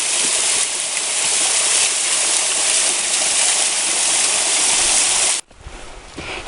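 Waterfall on a hiking trail, a loud steady rushing roar of falling water close by that cuts off abruptly near the end into quieter ambience.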